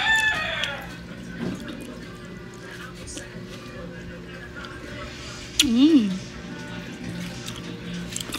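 A rooster crows once in the background mid-way, with scattered chicken clucks and faint drips around it, during an outdoor rural brunch of santol and salted eggs.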